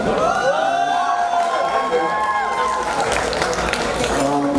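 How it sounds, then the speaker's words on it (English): A lively crowd at a film trailer launch event cheers and whoops loudly, with shouting voices rising over a wash of clapping. "So I'd like to give you all a round of applause."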